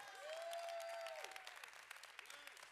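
A church congregation in Québec applauding and cheering, a faint steady wash of clapping from a crowd with a sustained tonal note and voice over it, thinning out toward the end.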